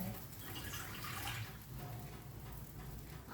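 Water is poured into a cooking pot with a soft, continuous splashing stream, slightly fuller for the first second and a half, then a gentler, quiet trickle.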